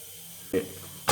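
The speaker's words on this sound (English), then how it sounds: "Using the impact on this, putting it on the lowest setting." An impact wrench set to its lowest setting removes the center nut of the primary chain adjuster on a Harley-Davidson. A brief mid-level burst comes first, then a loud, harsh rattling blast starts right at the end.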